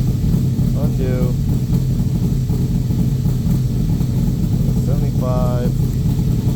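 A Back Draft Cobra 427 engine runs with a steady low rumble throughout, close and loud, while people talk over it.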